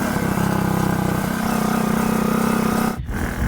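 A BMX bicycle fitted with a small bicycle engine drones steadily at a constant pitch while being ridden, loud and close, with a brief dip around the three-second mark before the engine picks up again.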